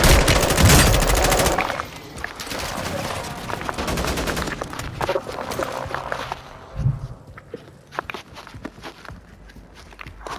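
Gunfire in the video game Call of Duty: Modern Warfare II, with bursts of shots and loud dense crackling in the first two seconds, then scattered, fainter shots and footsteps-like thuds amid game ambience.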